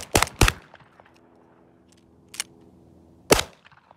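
Three loud, sharp shotgun blasts from a Sulun Arms Tac-12 firing buckshot, two in quick succession and then a third after a pause, each ringing out over a quiet outdoor range with smaller clatter between.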